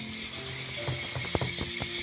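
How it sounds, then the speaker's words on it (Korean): Short repeated scraping strokes of sandpaper rubbing bisque-fired pottery, close and fairly quiet, in an irregular rhythm with a few sharper scratches toward the end. "울퉁불퉁한 거 없이 깨끗하게 사포질 해주세요"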